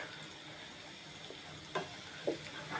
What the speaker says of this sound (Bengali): ফ্রাইড চিকেন ভাজা হচ্ছে।